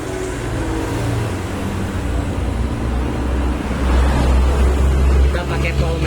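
A Timor car engine idles steadily up close in a workshop, a continuous low rumble with slight swells in level and faint background noise on top.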